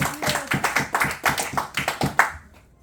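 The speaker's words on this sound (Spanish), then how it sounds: "Denle un fuerte aplauso al Señor." A church congregation claps in a steady, even rhythm, about a dozen sharp beats in quick succession, close and clear before the clapping stops and fades to quiet.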